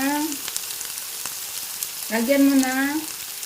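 Samgyeopsal pork belly sizzles steadily in a hot pan at home, a constant crackling hiss with two short tonal voice-like sounds rising over it.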